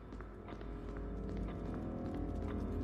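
Steady horse hooves clip-clop at a trotting pace over a constant background hum in the video game Resident Evil, continuous throughout.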